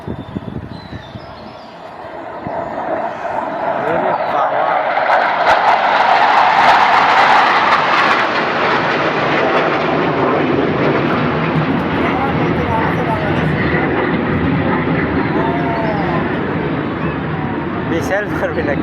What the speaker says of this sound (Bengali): এমন টেস্ট করতেছে নতুন বিমান মনে হয় বানাইছে নতুন